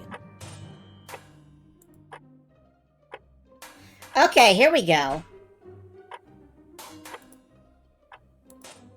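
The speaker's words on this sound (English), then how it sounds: "This clock sounds broken." Sparse, irregular clock ticks in a video game demo sound uneven and broken, faint and spaced apart, with a person talking briefly in the middle.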